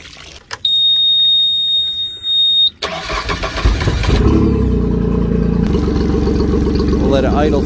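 A Suzuki 40 outboard engine cranks and catches after a shrill beeping alarm. It then settles into a loud, steady, close mechanical idle with a continuous droning hum.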